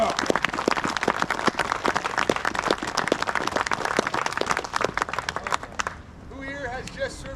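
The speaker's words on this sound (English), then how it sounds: "Let's give them a round of applause" Audience at a military safety briefing gives veterans a round of applause: dense, steady clapping from a sizeable crowd for about six seconds, then fading as voices take over.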